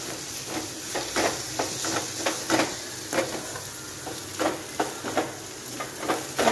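Egg masala with chilli powder, spice powders and garlic sizzles steadily in a pan while a spoon stirs it, scraping and tapping in a quick, irregular rhythm close by.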